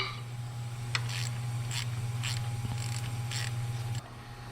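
A ratchet fitted with a deep 3/8 socket clicks on water pump bolts of a 2002 Pontiac Bonneville, giving several short bursts of ratcheting over a steady low hum.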